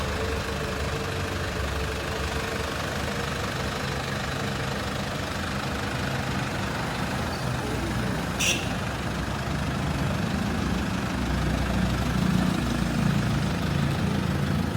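A Mahindra Thar Roxx SUV engine idles with a steady low rumble, nearby and moderately loud, with a faint brief high chirp partway through and the engine swelling slightly toward the end.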